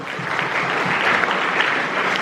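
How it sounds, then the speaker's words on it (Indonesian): Audience applause at a school visit event, a dense, steady wash of clapping from a crowd in a hall that holds at even strength for a couple of seconds. "Luar biasa, tepuk tangan dulu."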